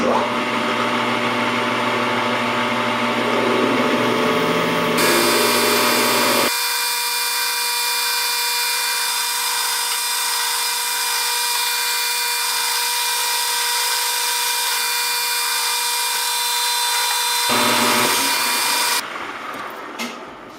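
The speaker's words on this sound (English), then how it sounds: "Alright, let's go ahead and drill our hole." A power drill with a 25/64 tap drill bit whines loudly and steadily as it bores a hole through metal, its pitch shifting as the bit cuts, then winding down near the end.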